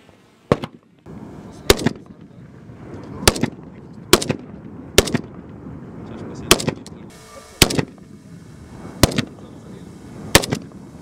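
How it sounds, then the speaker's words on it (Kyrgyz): Sharp gunshots ring out one at a time at a 100-metre target shooting competition, about nine reports spaced roughly a second apart, loud and close over a steady outdoor background. "Бул жерде конкурсанттар, тагыраагы окуучулар 100 метрлик аралыктагы бутага ок тийгизүү боюнча мелдешип жаткан чагы"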